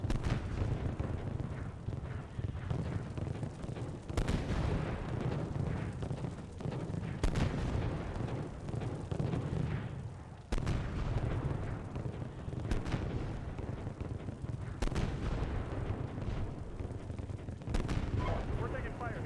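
ICM artillery shells landing behind a position in the Steel Beasts Pro tank simulation, a continuous heavy rumble of blasts and gunfire with sharp explosions every few seconds, loud and dense throughout.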